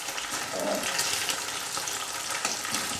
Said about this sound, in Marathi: पनीर असं ब्राऊन होईपर्यंत भाजून घ्या छानपैकी, मस्त असं.